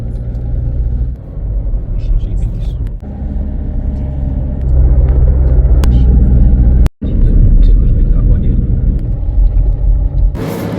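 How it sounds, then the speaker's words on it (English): A running Rover 75 car with a worn drop link that rattles gives a steady, loud, low rumble throughout, with a brief cut-out near the middle. "it has that all too familiar drop link rattle"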